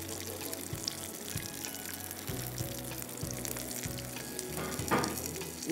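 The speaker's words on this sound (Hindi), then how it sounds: "अच्छा, खूबसूरत सा फ्राई कीजिए।" Bread-crumbed red snapper fillet frying in hot oil, a soft steady sizzle with faint clatter and stirring sounds, quiet and close, with no talk over it.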